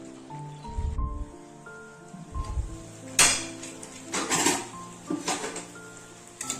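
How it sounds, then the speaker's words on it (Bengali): A pressure cooker lid is fitted on, heard as close metallic clanks and scraping knocks in short irregular bursts, with a few low thuds and some quieter rustling between them. "এরপর প্রেসার কুকারের ঢাকনাটা আমি লাগিয়ে দিলাম"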